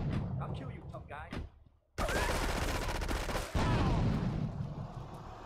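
Grenade explosions and rapid gunfire in GTA 3 come as dense, loud bursts after a short lull, then a heavier blast, with a voice heard briefly beforehand.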